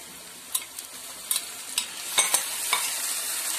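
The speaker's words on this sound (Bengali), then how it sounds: "আগে থেকে যে ম্যারিনেট করা মাংসটা ছিল সেটা আমি এবার কড়াইতে দিয়ে দিচ্ছি এর মধ্যেই।" Marinated meat is added to a hot kadai over fried onions, and the steady sizzle is broken by several sharp bursts and scrapes as the pieces go in and get stirred, close up and without talk.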